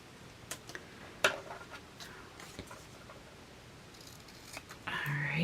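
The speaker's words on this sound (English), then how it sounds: "I'm just trimming it now since I already got the scissors out." Scissors trim a diamond painting canvas, making several crisp, scattered snips and clicks at close range, followed by a louder rustling handling sound toward the end.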